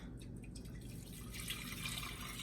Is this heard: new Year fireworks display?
no